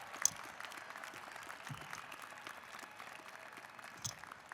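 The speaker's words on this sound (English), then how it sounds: "give them all a round of applause." Graduation crowd at the University of Washington commencement applauding, a faint, distant and diffuse wash of clapping filling a large outdoor venue, with a couple of brief louder spots.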